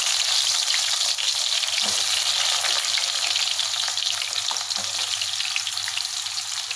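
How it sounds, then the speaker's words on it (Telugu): Sliced onions frying in hot oil for chicken dum biryani, a steady, loud and close sizzle that hisses evenly throughout with a few faint stirring knocks. "ఆయిల్లో ఈ ఆనియన్స్ వేసి దోరగా వేసేస్తున్నాను"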